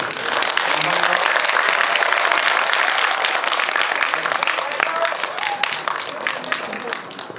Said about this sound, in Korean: 두 분 보내드리면서 큰 박수로 보내드리겠습니다.